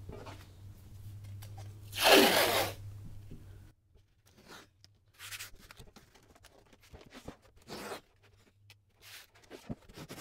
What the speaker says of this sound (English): So what I want to do is tape over that joint to make it even stronger.